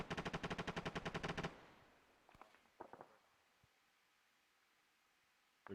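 A loud burst of rapid automatic machine gun fire in a video game rattles for over a second, followed by a few scattered thuds and clicks, then near silence.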